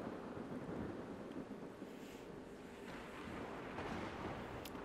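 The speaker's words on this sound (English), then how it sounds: "A rainstorm." Thunderstorm in the video game Ark Survival Ascended: a steady wash of rain with low rumbling thunder rolling underneath, continuous and fairly distant, with no talking.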